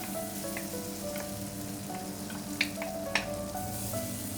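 Oil sizzling and crackling steadily in a pan as onions and tomatoes fry for an aloo and peppers curry, with a couple of sharp pops from the pan and no talking.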